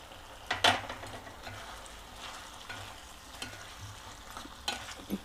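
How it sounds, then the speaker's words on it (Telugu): Green chillies and tomatoes being stirred in a frying pan, with soft scraping and light sizzle broken by a few sharper clinks of the utensil against the pan, close by and fairly quiet, no voices. "ఇదంతా బాగా కలుపుకోవాలి"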